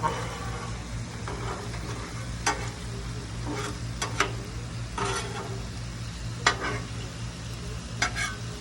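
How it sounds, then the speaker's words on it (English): Grease being pushed with a spatula across a hot griddle while street corn is being cooked: steady frying sizzle over a low hum, with scattered scraping ticks and clicks of the metal spatula. "Push that grease back there to the back because I don't want greasy street corn."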